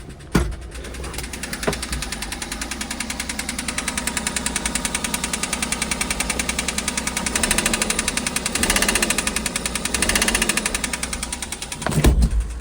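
Used 4WD kei truck engine idling with a rapid, steady mechanical ticking and knocking, loud and close, running continuously with a few brief louder bumps at the start and end.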